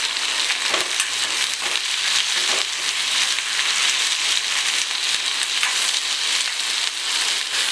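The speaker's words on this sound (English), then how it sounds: "To a pan, we added 1 tablespoon of oil, and when the oil is hot, we have to add sliced onions" Sliced onions sautéing in a tablespoon of hot oil in a pan, a loud, continuous close-up sizzle with faint stirring scrapes and no voices.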